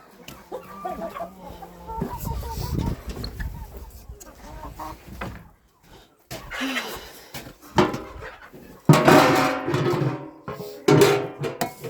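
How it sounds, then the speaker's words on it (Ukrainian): Hens clucking in a farmyard coop, two of them sitting on nests laying eggs; a run of clucks and squawks near the microphone comes in bursts, with louder sharp calls toward the end and small knocks between. "Так, що тут курки там дві сидить, несеться."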